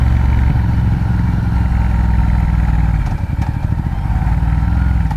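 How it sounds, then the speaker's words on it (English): A 2012 Ducati Diavel motorcycle engine with Termignoni exhaust rumbles loudly nearby, its deep exhaust note steady and throbbing, then pulsing unevenly as the throttle shifts. "they're looking at the motorcycle because they hear the sound"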